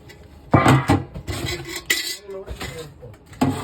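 Plates and dishes handled at home, a run of sharp clinks and clatters of crockery and metal utensils knocking together, close and irregular.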